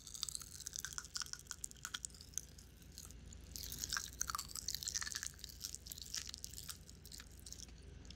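Popping candy is crunched and chewed up close, producing a rapid, irregular series of crisp crackles and wet mouth clicks that continue throughout, fairly quiet overall and with no voices.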